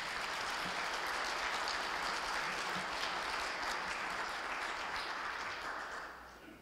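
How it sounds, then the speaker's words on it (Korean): An audience at a morning lecture forum welcomes a marine fish researcher and museum director with sustained, dense applause that holds steady and then tapers off near the end. "큰 박수로 환영해 주시기 바랍니다."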